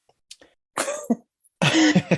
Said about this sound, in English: Which is probably why she's coughing as well.